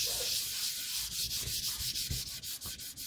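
Varnished wood being hand sanded with 240 grit wet sandpaper, a steady run of close, raspy rubbing strokes in quick back-and-forth rhythm with no voices.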